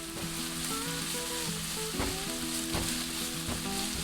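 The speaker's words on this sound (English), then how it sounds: "add the ginger strips. Stir and cook until the ginger becomes fragrant" Ginger strips fry in a pan, giving a steady, dense sizzle with a few sharp scraping stirs of a utensil against the pan, close and continuous, no voices.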